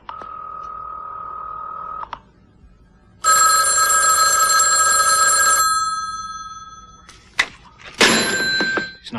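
A telephone gives a short steady tone, then rings once in a loud electronic burst that fades, followed by clicks and a harsh burst as if the receiver is picked up, with no talk.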